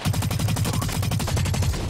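Rapid automatic incendiary gunfire from a CQC assault rifle in the online shooter Blacklight Retribution, a loud, continuous stream of evenly spaced shots that never pauses, heard alone with no talk.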